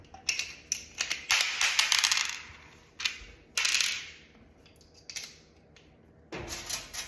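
While an oven door with a broken hinge is being repaired, a screwdriver bit is swapped out with clicks, clacks and short rattling bursts of metal bits nearby, alone and fairly loud.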